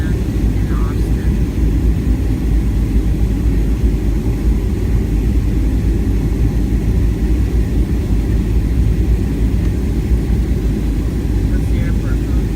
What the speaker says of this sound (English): Here we are, getting ready to land in Austin.